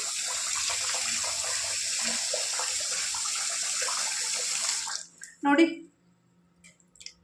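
Water poured over rice being washed for idli and dosa batter, a steady gushing stream that stops abruptly near the end, followed by a brief voice.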